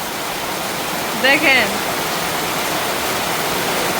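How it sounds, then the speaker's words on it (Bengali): Heavy rain pours in a steady, dense hiss without pause, and a voice briefly speaks over it partway through. "বৃষ্টি যেমন থামছেই না, আরো জোরে জোরে পড়তেছে না।"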